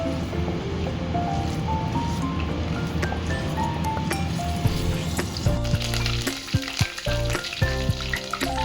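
Hot oil sizzles and crackles steadily as leaves fry, with faint tonal music playing in the background.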